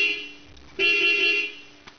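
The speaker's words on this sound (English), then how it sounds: "This is probably going to honk while you're doing it." The horn on a Pontiac Fiero steering wheel sounds during an ignition lock cylinder repair, giving one nearby honk of about three-quarters of a second that follows a faint start.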